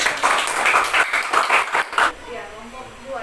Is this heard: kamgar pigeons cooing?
no